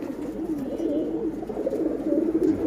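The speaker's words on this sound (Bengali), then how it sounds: "ওগুলো সবই আমার সিলভার জাতের কবুতর" Silver-breed pigeons of the Palla line coo close by in a soft, continuous, rolling murmur of overlapping low calls, with no one talking.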